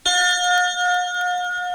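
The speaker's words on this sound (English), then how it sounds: "Every time you hear this chime," A single bright bell-like chime for turning the page in a G.I. Joe read-along storybook, struck once and ringing with clear overtones that decay slowly over nearly two seconds.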